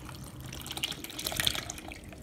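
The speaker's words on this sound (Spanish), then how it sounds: "Ahora le voy a poner la taza de leche." A cup of milk is poured into pancake batter for blueberry pancakes, giving a soft, close liquid trickle and splash lasting about two seconds with no talking.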